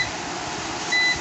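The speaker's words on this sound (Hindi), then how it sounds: "वार्निंग के लिए जो बज़र बजता है" An Inverex Aerox 2.2 inverter sounds one short, thin electronic warning beep, steady and mid-loud, over a faint hum.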